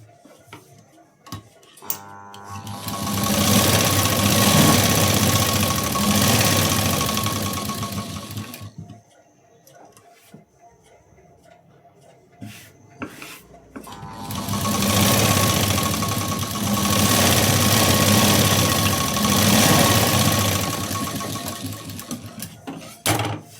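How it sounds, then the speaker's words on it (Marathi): A sewing machine stitching a sleeve seam runs in two long, loud, steady bursts of rapid mechanical whirring, separated by a quieter pause with light clicks and fabric handling. "इथं शिलाई देऊन झाली कडेला."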